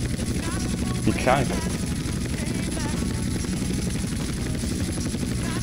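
A military helicopter lifting a van in the video game GTA San Andreas gives off a steady, loud rotor drone throughout, while a voice speaks briefly over it.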